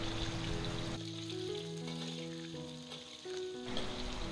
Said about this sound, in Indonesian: panaskan minyak, masukkan bawang merah yang udah kita potong-potong, goreng hingga bawang merah harum dan layu.